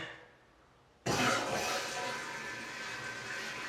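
A newly installed toilet flushes with a sudden loud rush of water, then the tank refills with a steady, softer hiss that continues to the end.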